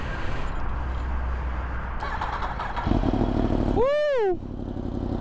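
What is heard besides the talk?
Yamaha R1 motorcycle engine starting, titanium Akrapovic exhaust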